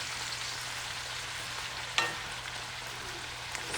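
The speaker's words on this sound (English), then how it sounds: "stir this all around to make sure it gets coated evenly with the bacon fat." Cabbage fries in bacon fat, giving a steady, loud sizzle throughout, with one sharp scrape of stirring near the middle and no voices.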